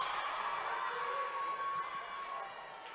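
A college volleyball crowd at a Southern Wesleyan vs. Young Harris tournament match cheers and roars in a steady, dense wall of noise that eases off slightly toward the end.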